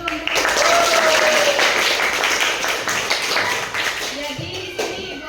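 Students in a classroom clap together, a burst of mixed applause lasting several seconds, fairly close, with a murmur of voices underneath.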